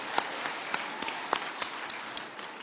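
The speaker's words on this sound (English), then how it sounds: "Another hand clap." Scattered hand claps from an audience at a Kenya Girl Guides Association patron installation ceremony, a series of separate sharp claps spaced irregularly over a soft room background.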